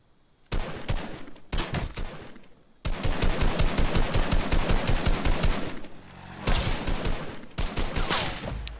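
Sniper gunfire from the video game Fortnite: a dense series of sharp, loud shots in bursts, with brief gaps between volleys and no talking.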